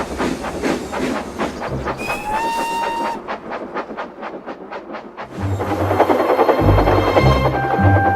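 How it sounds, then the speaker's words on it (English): Cartoon steam engine travelling across the countryside, chugging in a steady rhythmic puff with hissing steam and bright whistle tones, loud and close over background music. "Thomas puffed across the countryside."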